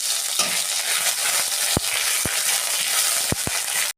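Dried chili and ginger frying in hot oil for a mixed-vegetable dish give a steady, loud sizzle throughout, broken by a few sharp clicks of a utensil against the pan.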